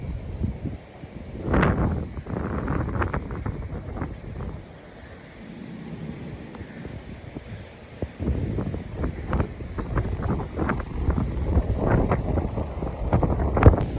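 Strong wind gusting at a beach during a kite-flying contest, buffeting loudly in rough bursts with rumbling lows, rising and falling over the clip without talk.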